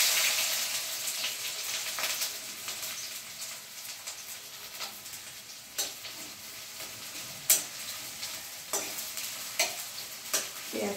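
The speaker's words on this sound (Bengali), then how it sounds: "পেঁয়াজটা আমি 1 থেকে 2 মিনিট ভেজে দেবো হালকা করে, তারপরে বাকি মশলা দেব।" Finely chopped onion fries in hot mustard oil, a steady close sizzle with a broad hiss, punctuated by sharp taps and scrapes of a spatula stirring the pan, no talk.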